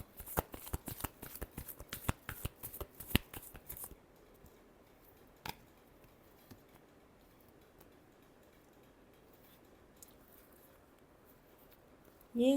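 Tarot cards are riffled and shuffled in a rapid run of crisp flicks for about four seconds, then a single snap, followed by near silence.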